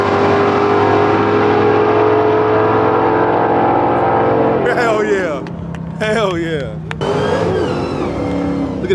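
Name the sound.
Jeep accelerating and sliding sideways on a drag strip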